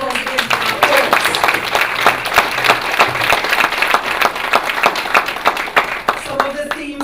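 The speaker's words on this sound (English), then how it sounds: "Round of applause again for our poets." An audience at an arts-in-the-city event applauds poets, a dense burst of steady clapping lasting several seconds with some cheering.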